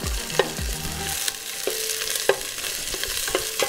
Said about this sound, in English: So we're just gonna saute our onions for a bit